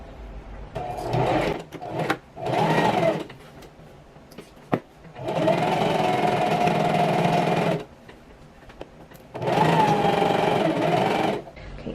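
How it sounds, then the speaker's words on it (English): A sewing machine running a straight stitch along a bias-cut maxi skirt seam, close whirring bursts of one to three seconds separated by short pauses and small clicks, with no speech. "just go in a straight stitch, normal machine settings, and once we do this, we are done"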